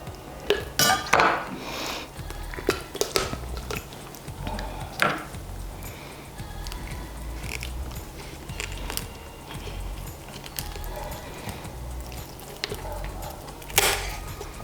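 A kitchen knife chops through chicken Maryland pieces on a board in a Thermomix kitchen, giving sharp irregular knocks and clinks in bursts, some loud and close, with quieter scraping and rustling between them.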